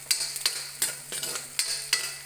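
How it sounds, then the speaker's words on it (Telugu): Onions and green chillies fry in a pan, making a sizzle under repeated stirring scrapes and clinks of a utensil against the metal, about every half second, close and clear, with no talking. "ఆనియన్స్ ఫ్రై అవుతున్నాయి."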